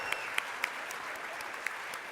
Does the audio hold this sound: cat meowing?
no